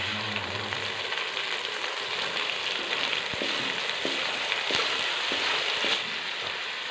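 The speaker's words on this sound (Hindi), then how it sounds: "प्याज जो है हमारा वो ब्राउन हो चुका है। तो अब हम इसमें टमाटर का पेस्ट डालेंगे।" Tomato paste and browned onions sizzle steadily in a hot pan, a loud continuous frying hiss with a few soft stirring knocks, no voices.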